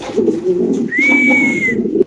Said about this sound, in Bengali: সাদা মুন্ডিয়ান মাদি কবুতর সিঙ্গেল নাকি ভাই?